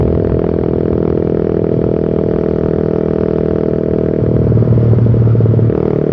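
Suzuki Satria FU Fi motorcycle fitted with a Pro Liner exhaust muffler, running on a public road: a steady, close engine note throughout, with a rev that rises louder and harsher near the end.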